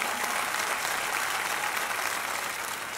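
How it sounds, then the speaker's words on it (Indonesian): Steady, dense audience applause at a televised talent show audition, a continuous wash of many hands clapping with no pauses. "Boleh tepuk tangan ya."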